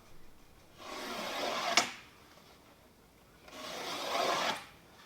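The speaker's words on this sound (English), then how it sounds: "a couple of swipes through the veneer" A razor blade scores wood veneer beside a circular saw cut in two slow rasping swipes, each about a second long, close and quiet with a pause between them.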